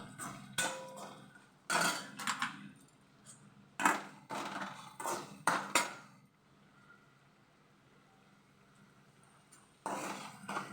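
Salt, turmeric and coriander-cumin powder being stirred into a gunda relish, with bursts of spoon scraping and clinking against a bowl separated by quiet pauses.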